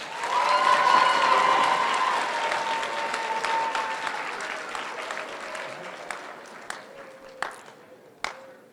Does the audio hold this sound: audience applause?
yes